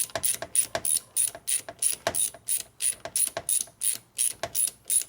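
A ratchet wrench tightens an Allen bolt on a 1941 74ci Knucklehead bobber motorcycle, clicking sharply close up in about a dozen quick bursts with short gaps between strokes.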